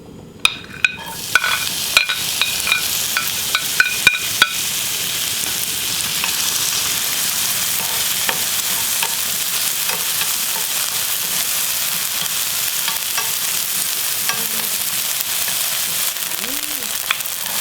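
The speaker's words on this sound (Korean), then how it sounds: "파기름을 먼저 낼 거예요." Chopped green onions frying in oil in a pan to make scallion oil for chonggak kimchi fried rice, a steady, close sizzle throughout with a few sharp utensil clicks near the start.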